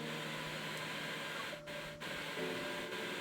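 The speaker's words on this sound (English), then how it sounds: "if you guys hear a hairdryer in the background" A hairdryer drones steadily in the background of a quiet room, a constant whirring hum with a couple of brief dips, with no one talking.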